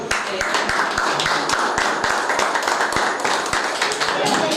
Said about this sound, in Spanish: Y le damos un aplauso a Milena.